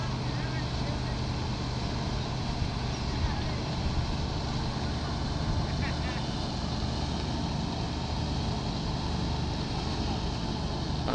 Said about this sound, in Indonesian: Dua mesin aja yang nyala.